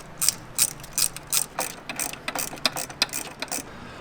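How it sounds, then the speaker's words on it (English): Ratchet wrench tightening bolts on an ARB air compressor mount under the hood of a Jeep JL Wrangler or JT Gladiator, a dozen or so crisp clicking strokes in quick rhythmic bursts, close up. "You can go ahead and tighten these bolts down."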